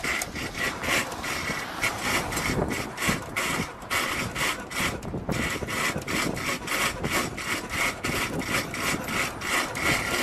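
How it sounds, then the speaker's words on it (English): Rapid, rhythmic mechanical rasping and scraping of a paper mill roller running out of control, heavy machinery churning and rubbing nonstop, loud and close with no voices. "At this paper mill, the roller went out of control, turning the entire area into a paper blizzard."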